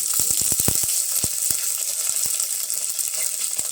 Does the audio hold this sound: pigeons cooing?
no